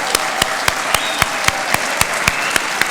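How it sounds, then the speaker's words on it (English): Applause at a 2023 graduation ceremony: a steady run of about a dozen sharp, evenly spaced claps, close and clear, like a small group clapping in rhythm. "Let's all give a warm round of applause and celebration for this lovely group."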